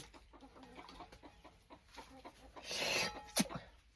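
A red-crested rooster gives a few brief clucks near the end, rising over low, steady background noise.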